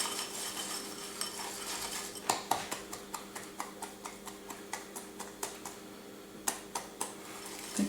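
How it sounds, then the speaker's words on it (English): Cake batter for a white chocolate mud cake, with a tablespoon of softened butter added, being mixed by hand: a steady run of quick spoon or whisk clicks against a bowl, close and fairly even, with no voices. "I've been mixing this now for a little while."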